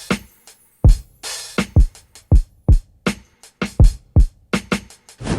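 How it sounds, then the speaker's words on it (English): Pre-processed, computer-made modern drum loop with punchy kicks and sharp snares and hats, a dense steady rhythmic pattern played loud and alone. "The modern drums are more of a live drum, but the ones that have been pre-processed or manually made on computers to sound like this."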